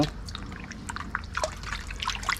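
Pork is washed by hand in water, producing close splashing, trickling and wet rubbing sounds in irregular bursts at moderate loudness, with no talking.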